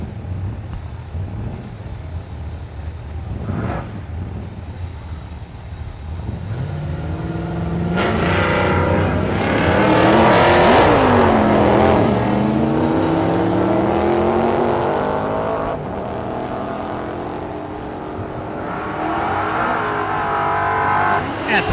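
A Mustang and a Camaro with an orange stripe launch and race down a drag strip at Thunder Valley in Noble, Oklahoma, engines swelling into a loud sustained roar with rising revs, then fading as a second run builds.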